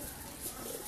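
Pigeons of a fine, strong-blooded show breed, black-footed birds kept by a fancier, coo softly in a brief, steady murmur close by, with no voices over them.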